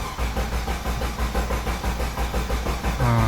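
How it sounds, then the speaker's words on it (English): Starter cranking an old Jeep engine that struggles to start, a steady rhythmic churn of repeated pulses close by, with a shift in tone near the end as it briefly catches. "This thing normally just cranks and cranks and does not start up."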